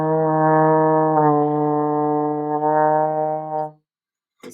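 A trombone plays a smooth, connected line of notes in one breath, sustained and fairly loud, then stops into silence.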